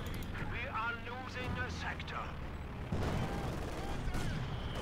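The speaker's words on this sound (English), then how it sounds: "More counter barrage fire." Counter-barrage artillery fire in Company of Heroes 2 booms and rumbles in the background, with a heavier burst partway through, while a commentator talks over it almost continuously.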